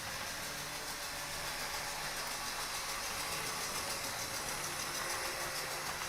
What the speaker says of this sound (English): that Via Rail Loco needs a good service. It's really, really noisy and sounds like it's got a flat spot.